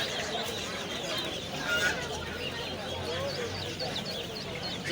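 Chickens cluck and chatter steadily amid a busy, noisy poultry market, with chicks being handled and people talking throughout.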